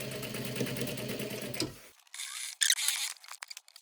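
A sewing machine runs a stitch along the joined fabric edges of a shoulder bag, a steady close mechanical whirr that stops, followed by a few brief handling clicks and taps.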